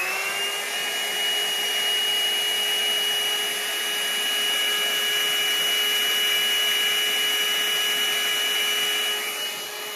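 A hair dryer blows steadily and loudly on acrylic pour paint containing a thick cell activator, a continuous whooshing drone with a faint high whine and no breaks.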